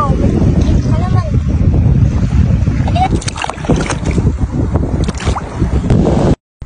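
Strong wind buffets the microphone at a rough, wavy sea on the shore, a loud, steady roar with surf churning underneath, sharp gusty crackles, and a voice talking through part of it before a brief dropout near the end.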